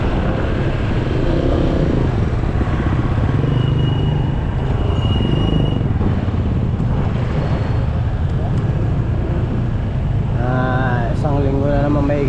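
A motorcycle rides on just after filling up at a Petron station, its engine a steady loud drone mixed with road and traffic noise throughout, while a voice talks briefly near the end.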